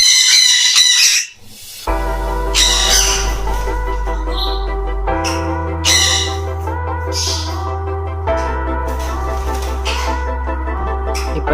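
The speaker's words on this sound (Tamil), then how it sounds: "இப்போ இந்த சன்கான் ஒரு கத்தலை காதுலேருந்து ரத்தமே வந்துடும் போல இருக்குது." A sun conure at a bird farm screams loudly and harshly in repeated bursts, piercing over a steady low hum in an enclosed room.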